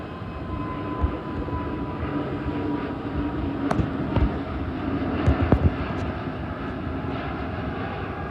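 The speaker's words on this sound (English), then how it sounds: "Now we have a 787-8 to Toronto taking off." A British Airways Boeing 787-8 bound for Toronto takes off at Heathrow Airport, giving a broad, steady jet engine roar at a moderate distance, with a few sharp clicks and knocks near the microphone.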